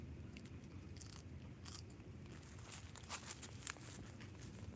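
Someone biting into a crunchy, crisp Jewels of Opar leaf, giving several sharp, close crunches and crackles spaced across a few seconds over a quiet outdoor background.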